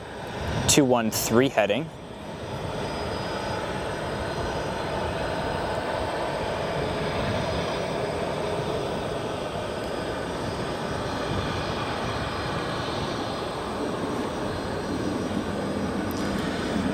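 An SAS Airbus A330-300 passes over O'Hare at about 7,000 feet, a broad, steady jet roar that swells gently and stays constant for the whole stretch, with a brief burst of radio chatter at the start.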